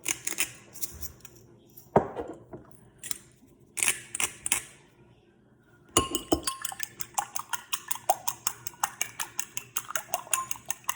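Two eggs crack into a bowl among light kitchen clatter, a few sharp taps and clinks, then a quick run of rhythmic whisking or tapping against the bowl.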